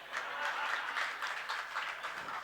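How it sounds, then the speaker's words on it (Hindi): Audience clapping at a religious discourse in Khajuraho, a soft but sustained patter of many hands, fairly distant and even in rhythm. "क्योंकि आपकी ताली बज रही है।"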